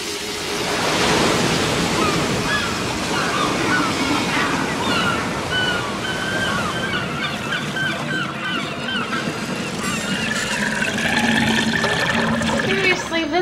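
A toilet flushing in a basement gives a long, loud rushing roar of water that lasts throughout, with voices talking over it.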